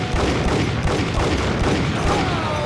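Dense, sustained gunfire from the Max Payne video game, a loud continuous barrage of rapid shots and booms filling the whole stretch without pause.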